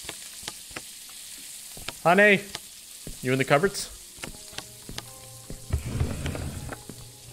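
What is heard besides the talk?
food frying on a stove in a video game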